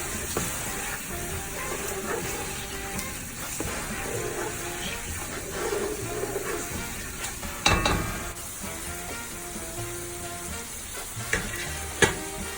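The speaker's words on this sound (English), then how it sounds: "Next, we're going to add the onions, the garlic. Next, we're stirring." Onions and garlic frying for a Puerto Rican pork pastele filling, a steady close sizzle under repeated stirring and scraping, with a few sharp clanks of a utensil against the pot.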